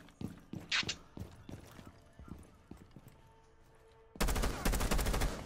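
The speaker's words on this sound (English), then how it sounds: "His gun kept on shooting." Video game gunfire: scattered sharp shots give way to a loud, dense burst of rapid automatic fire that fills the last second, with faint voices underneath.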